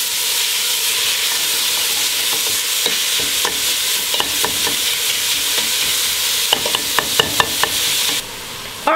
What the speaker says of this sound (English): we're going to brown this ground beef